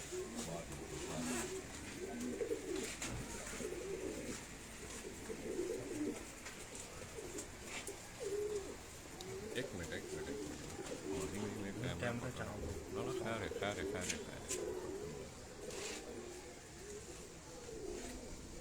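Pigeons kept by a fancier in Abbottabad coo repeatedly in low, rolling calls throughout, with faint voices murmuring in the background.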